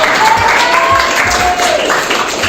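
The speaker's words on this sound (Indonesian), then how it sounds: "Tepuk tangan buat kita." Dense, even clapping from an audience fills the room, loud and sustained for a couple of seconds before easing slightly.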